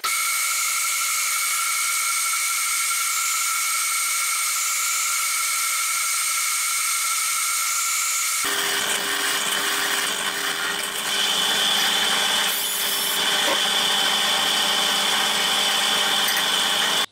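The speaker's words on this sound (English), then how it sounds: "I'm making the countersinks for my little bolts here" Countersinks for small bolts being cut on a metal part held in a dividing head, an 8 mm countersink, giving a continuous high whine of machining that shifts abruptly halfway into a harsher, broader grinding tone, close and loud, with no talk.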